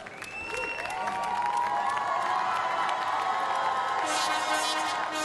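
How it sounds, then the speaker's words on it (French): A crowd at the Bocuse d'Or 2013 cooking competition applauds the Brazilian team in kitchen box 5, building into steady, dense clapping mixed with cheers and whoops that holds loud through the whole stretch. "Et on vous demande d'applaudir le Fabio Watanabe et Alvaro Gasparetto dans"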